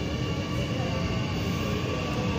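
A passenger train on a Sunday ride rolls along its rails with a steady, dense rumble and hiss heard from on board, unbroken and fairly loud throughout.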